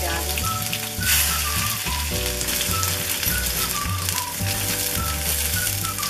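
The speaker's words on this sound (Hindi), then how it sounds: "प्याज को हल्का ब्राउन होने तक भून लेंगे।" Onions added to hot mustard oil with toasted cumin, sizzling and crackling loudly and steadily up close while being stirred, with faint utensil knocks and no talking.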